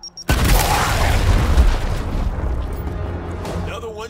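A grenade explodes in the Gears Tactics video game with a sudden loud blast. A heavy, decaying rumble follows.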